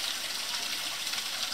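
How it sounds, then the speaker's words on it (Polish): Water pours steadily into a fish hatchery jar holding newly hatched pike, giving a close, even gushing hiss with no talking. "dopływ wody, widzicie?"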